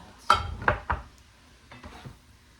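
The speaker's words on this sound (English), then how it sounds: "Just stir it around" Utensil clinking and scraping against a pot as flour is stirred into a Philly cheesesteak soup, three close knocks in quick succession followed by a couple of softer scrapes.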